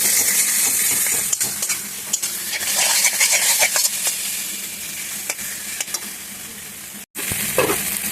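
Potatoes stir-fried with spices in a pan: a dense, loud sizzle with rapid spatula scrapes and taps throughout, close up, briefly cutting out before resuming, with no speech.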